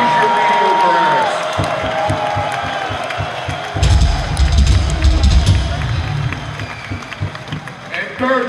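Concert crowd at a heavy metal show at Riverbend Music Center during Ozzfest, loud cheering and clapping swelling midway under a shouting voice on the PA, a large outdoor crowd roaring in waves.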